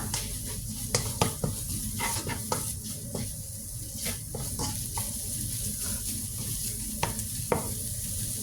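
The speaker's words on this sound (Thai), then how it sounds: "ดี๋ยวคั่วเครื่องให้หอมเลยจ้ะ" Spice paste crackles as it is stir-fried in a pan for a Thai pork dish, a continuous close sizzle punctuated by irregular utensil knocks and scrapes against the pan, with no voices.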